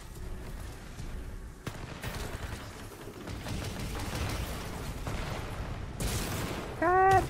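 Spitfire light machine gun from Titanfall 2 firing in sustained bursts, a dense rattling stream of shots that runs for several seconds amid game explosions, with a short electronic chime at the end.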